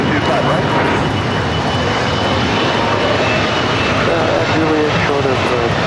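An aircraft at LAX gives off a loud, constant engine roar on the airfield, a dense broadband rumble that stays steady throughout, with radio voices faintly underneath.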